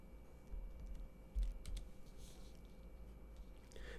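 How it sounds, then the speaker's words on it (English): Keys tapped on a MacBook keyboard, a brief run of soft, quiet clicks over faint background hum, with no voices. "In the search bar, type Pearcleaner."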